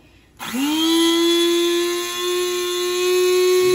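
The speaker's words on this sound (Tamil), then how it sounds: "அதை போட்டு கொஞ்சம் நல்லா கிரைண்ட் பண்ணிக்கிறோம் ஃபுல்லாக" Electric grinder whirring through coffee powder for filter coffee, starting abruptly and holding a steady loud high-pitched motor whine, close and continuous with no talking.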